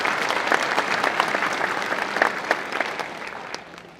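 A graduating class and audience at a St. Luke's commencement ceremony clap in a sustained round of applause, many hands blending into a thick, even roar that tapers slightly toward the end.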